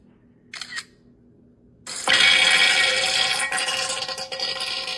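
A camera shutter sound effect from a TikTok phone app gives a brief click, then a loud, sustained, noisy burst takes over and lasts to the end, with no talking.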